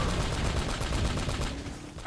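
Rapid bursts of 7.62 rifle gunfire in the video game Uncharted: Drake's Fortune, loud and dense with overlapping shots, with no talking.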